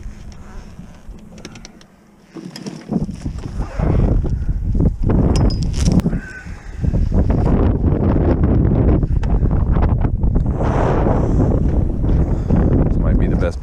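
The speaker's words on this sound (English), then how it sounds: "See the wind picking up though." Strong gusts of wind roar across the microphone on a small sailboat under sail with no engine, a loud, steady buffeting that briefly drops off near the start before rising and holding heavy for the rest.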